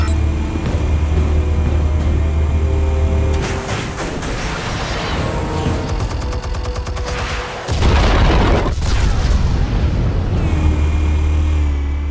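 Explosives detonate in the video game Batman The Telltale Series, loud booming blasts and rumbling debris over a deep low drone, with a sharp burst near the middle and heavy rumble continuing after.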